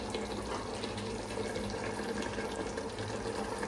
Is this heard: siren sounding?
no